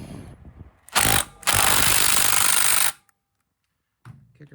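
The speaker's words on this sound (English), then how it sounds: "Kicker pedal is now tightened down enough." A kicker pedal arm on an old swap-meet chopper motorcycle is tightened with a power tool, giving two loud mechanical bursts, a short one and then a longer sustained one lasting about two seconds, followed by silence and a brief faint noise.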